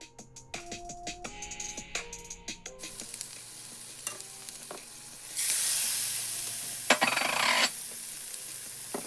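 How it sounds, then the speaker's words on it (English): Salmon frying in olive oil and butter with salt and pepper, a loud steady sizzle that starts partway through, after a short stretch of light music, and holds until near the end. "Fry the salmon with olive oil and a little bit of butter and salt and pepper"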